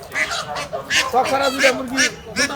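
Ducks quack in short repeated bursts at a busy village market in Gajipur, Bangladesh, close and fairly loud, with people talking around them.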